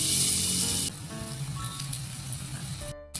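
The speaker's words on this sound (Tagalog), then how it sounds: "Prito tayo ng saging." Banana slices fry in hot oil, a steady sizzle that is loud at first, then drops to a quieter crackle, with a faint clink near the end.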